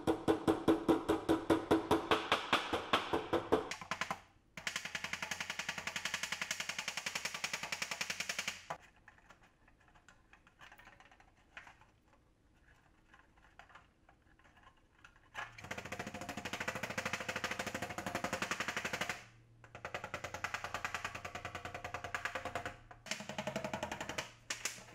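Aluminum exhaust heat shield from a 1990 VW Golf Country being straightened, heard as loud rapid mechanical hammering in long bursts, with a quieter pause in the middle before the rattling resumes.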